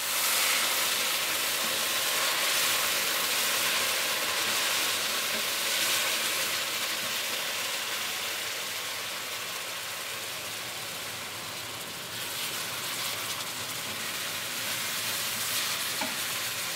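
Rice and porcini mushrooms frying in a hot pan for risotto, with boiling water being added, give a steady loud sizzle and hiss that runs the whole time, easing a little midway.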